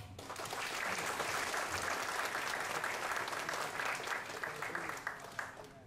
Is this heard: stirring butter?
no